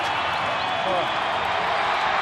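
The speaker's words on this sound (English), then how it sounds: "The crowd has exploded." Rugby league stadium crowd roaring at a Penrith match, a dense sustained roar from thousands of fans, loud and unbroken.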